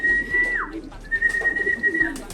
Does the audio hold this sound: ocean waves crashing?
no